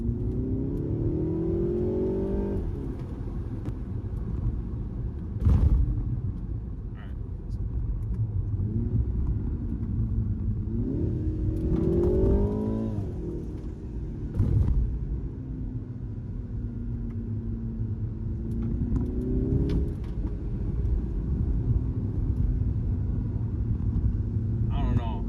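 A BMW 330i G20 in Sport Plus mode accelerating hard, its engine note climbing through several rising sweeps with brief shift breaks, heard close from inside the car over a steady low road rumble.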